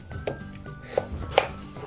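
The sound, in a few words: knife chopping potatoes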